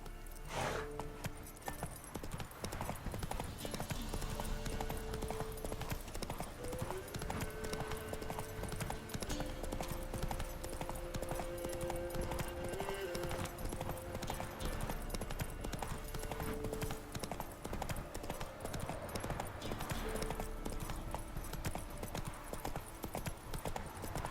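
Roach, a horse in The Witcher 3: Wild Hunt, clip-clops along with a steady rhythm of hoofbeats over ambient game music and background tones, continuing without a break.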